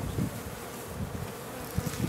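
A dense, steady drone of a swarm of honey bees buzzing together nearby, with individual insects flitting past more loudly now and then.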